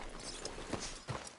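Horse hooves clip-clopping in Red Dead Redemption 2, a walking gait on the street outside a sheriff's office, soft rhythmic steps blended into steady game ambience with no speech.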